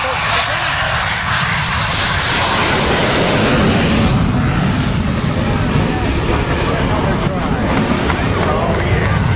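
An FA-18 Hornet jet roars loudly through a smoke pass at a Cleveland air show, a sustained heavy jet-engine rumble with a shifting pitch and broad crowd-level noise throughout.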